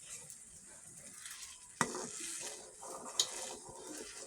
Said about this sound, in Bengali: এই যে ঘি বলক আসছে